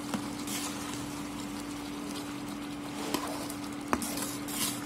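A spoon stirs spice powder into gongura chicken curry in a pan: soft, faint scraping with a few sharp clicks against the pan, under a steady low hum.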